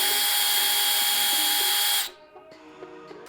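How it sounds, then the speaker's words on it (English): A cordless power drill bores a hole in wood while a squirrel picnic table is being built, with a loud, steady high whine that cuts off abruptly, followed by faint quiet handling noises. "And you place your hand on the top, gently push, and you can start drilling."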